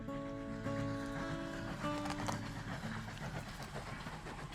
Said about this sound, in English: He fell asleep to the rattling song of the train wheels.